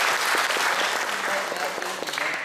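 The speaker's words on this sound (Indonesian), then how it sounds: "Tepuk tangan buat filosofi lilin ya." Steady audience applause fills a talk or seminar hall, dense and continuous at moderate loudness for the whole stretch, with no distinct voices standing out.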